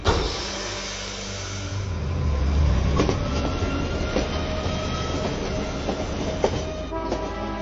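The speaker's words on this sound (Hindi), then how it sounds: "ये ट्रेन तो यमुनानगर ही जा रही है। आजा, जल्दी जल्दी ट्रेन में चढ़ जाते हैं" A passenger train running on rails, a loud steady rumble with rhythmic wheel clicks and occasional squeals, heard close with no talking.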